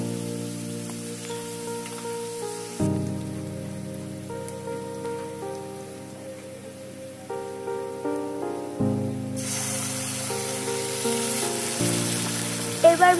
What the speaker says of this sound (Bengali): এবার এর মধ্যে দিয়ে দেব পেঁয়াজ কুচি, দিয়ে সব ভালো মতো আবার ভেজে নেব।